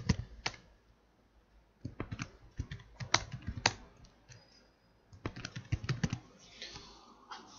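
Typing on a computer keyboard while entering a bank name: bursts of quick, close clicking keystrokes separated by short pauses, no talking.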